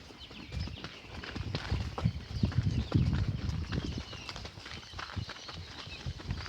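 Hooves of a horse ridden through a pasture to herd cows, a loose, uneven clip-clop of steps on soft ground, close and moderately loud, with light rustling between strikes.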